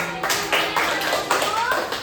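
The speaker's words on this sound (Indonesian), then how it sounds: "Beri tepuk tangannya." A classroom group of children claps together in short, uneven bursts, fairly near and moderately loud, with a few young voices mixed in.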